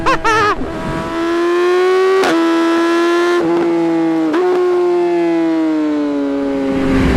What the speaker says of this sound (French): Ce son du 4 cylindres de la R6.